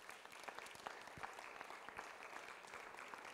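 Congregation clapping hands at a healing and deliverance church service, steady dense patter of many hands, faint and distant, continuing without pause.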